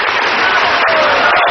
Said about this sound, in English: But the applause and cheers force him to do a short encore.